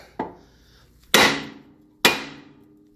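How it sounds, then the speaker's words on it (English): Three sharp metallic blows from a 2-pound sledgehammer on a Honda Accord wheel bearing hub, evenly spaced about a second apart, each ringing briefly before fading; close and loud with no talking. "I'm going to get my hammer, and I'm going to hit right here, and pop this right up."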